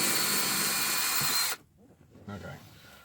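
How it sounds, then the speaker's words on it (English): A power drill whines loudly and steadily while pre-drilling plastic during a DVD/LCD screen install in a Ford Excursion, then stops abruptly, followed by quieter low mechanical rumbling and handling. "So let's try a pre-drill."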